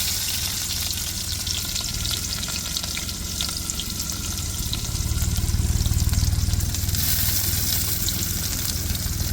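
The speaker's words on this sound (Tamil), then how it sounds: "எண்ணெய் சூடேறிட்டு இப்போ வெங்காயத்தை சேர்த்துக்கிறோம்" Onions drop into hot oil in a kadai for a masi karuvadu thokku, producing a loud, steady close sizzle that swells midway and stays dense to the end, with no talking.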